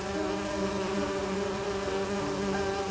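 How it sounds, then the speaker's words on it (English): A swarm of bees drones steadily in a video game, a constant, fairly loud buzzing hum with layered pitches that holds unbroken throughout. "I need to subdue the bees first."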